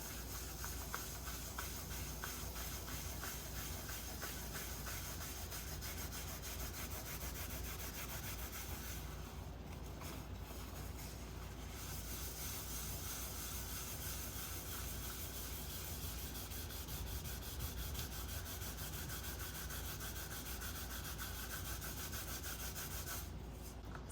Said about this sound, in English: And again, we'll wipe this one off.